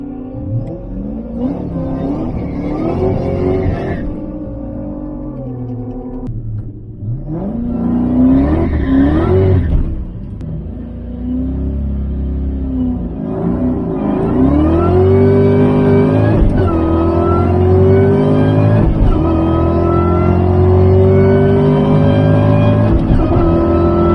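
A drag car makes a quarter-mile pass, engine revving loudly in repeated rising surges through the gears, with a short quieter gap before the run builds into a sustained, climbing roar that carries to the end.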